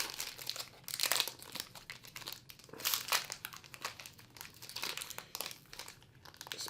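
A trading card pack wrapper crinkling loudly as it is torn open, close and continuous in bursts of rustling and crackling, with no voice over it.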